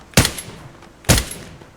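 Two heavy AWM sniper rifle shots in the mobile shooter Knives Out, roughly a second apart, each a sharp loud crack with a short fading tail.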